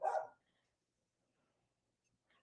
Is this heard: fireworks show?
no